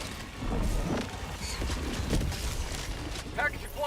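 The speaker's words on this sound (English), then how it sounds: "Calling in orbital strike." An orbital strike in Helldivers 2 lands in a rumbling, thunderous blast with crackling debris, heavy and sustained over a noisy battlefield, with voices calling out.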